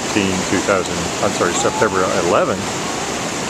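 Floodwater from the Big Thompson River rushes loudly and steadily past the Wilson Street Bridge in Loveland, Colorado, during the September 2013 flood, with someone talking over the roar.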